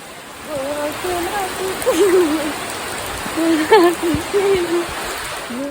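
Steady rain hisses evenly throughout, with a person talking softly over the downpour.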